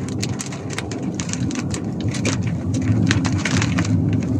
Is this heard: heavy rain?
yes